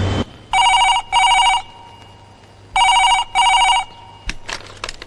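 A telephone rings for a call home to a mother, sounding two bursts of double bell rings separated by a pause, loud and close, followed by a few clicks as the line is picked up.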